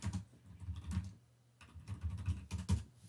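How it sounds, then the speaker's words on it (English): Typing on a computer keyboard into LibreOffice: close, uneven bursts of key clicks with a short pause in the middle, no talking. "I can start LibreOffice to type something"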